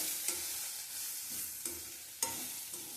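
Chopped snake gourd sautéing in oil in a pan, a soft continuous frying hiss with a few light scrapes of the spatula at intervals, quiet and close, no voices.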